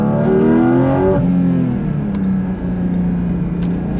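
Porsche GT4RS engine revving up to a loud, harmonically rich howl, then dropping back to a steady idle-like drone, close and alone with no talk.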